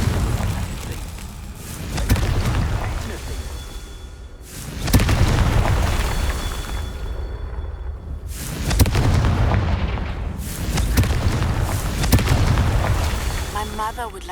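The Confringo blasting spell from the video game Hogwarts Legacy sets off repeated heavy booming explosions, each a loud rolling roar that fades before the next, with game voices and effects mixed in.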